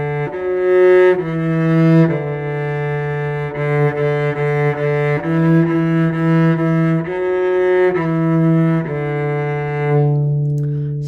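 Cello playing the simple beginner melody Hot Cross Buns, clear bowed notes in a slow stepwise pattern, close and fairly loud, heard alone without talk.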